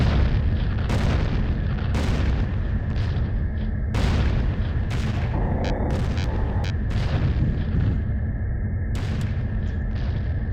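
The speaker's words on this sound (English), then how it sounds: "But the artillery is still active" Artillery fire in the flight simulator Falcon 4 Allied Force sounds as repeated deep booms and blasts at irregular intervals over a constant loud engine-like rumble, with no voices.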